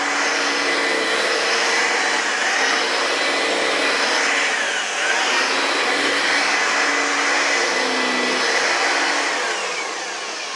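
An upright household vacuum cleaner drones continuously at close range, its tone wavering gently as it moves, trailing off slightly at the end; no one talks.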